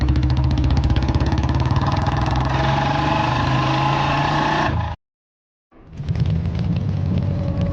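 Motorcycle engine in an animated horror story, a steady mid-pitched drone that idles and revs as the bike rides off, cutting out briefly to silence before resuming just as loud.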